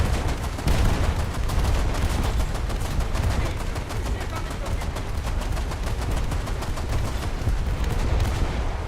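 Naval guns firing at targets in a naval combat game, rapid continuous bursts of close, loud shots with heavy booming underneath, sustained throughout.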